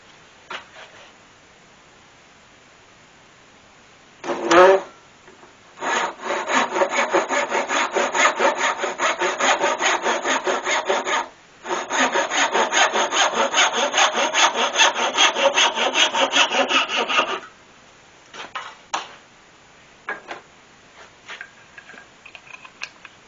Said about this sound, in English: A little bit finish sanding to get it into that corner.